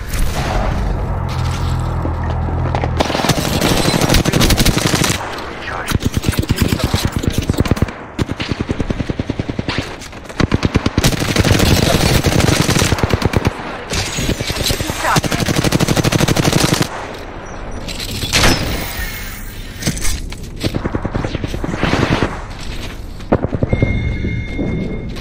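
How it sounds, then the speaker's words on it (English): Relentless gunfire from a PC first-person shooter video game, loud and dense bursts of automatic fire with heavy thumps and explosions running nearly nonstop, broken by brief lulls that may carry reloading. "Firing. Getting shot at. Reloading."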